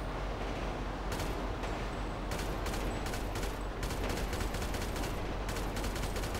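Gunfire in the video game GTA V crackles in dense, rapid bursts under a constant loud wash of noise, with clusters of sharp shots that come and go over several seconds.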